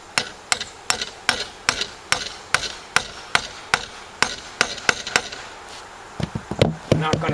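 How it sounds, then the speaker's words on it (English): Lag bolts are driven into the legs of a rotted wooden picnic table with a steady series of sharp, loud, close strikes, about two or three each second, ending in a few quicker, heavier knocks. "Temporarily, I'm going to put in the two lag bolts because we got the angle where we want it."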